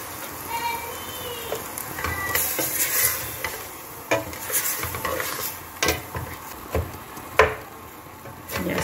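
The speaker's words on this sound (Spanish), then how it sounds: "Después de freír bien esta carnecita" Meat for a Creole soup fries in a pot with a low sizzle, broken by repeated scraping stirs and clinks of a utensil against the pot, close by and moderately quiet, with speech heard intermittently.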